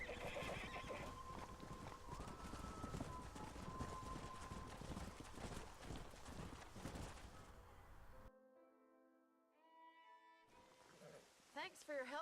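A horse in the Red Dead Redemption video game whinnies loudly while its hooves clip-clop steadily, with game music and ambience running beneath, then the scene shifts to quieter tonal music near the end.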